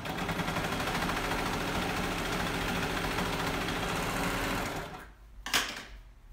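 A sewing machine stitches velvet pillow fabric in a steady, fast mechanical whir with rapid needle clatter that runs loud and close for about five seconds, then stops and leaves a brief clunk.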